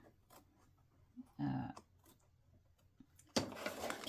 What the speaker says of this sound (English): grab your very sharp applique scissors and start trimming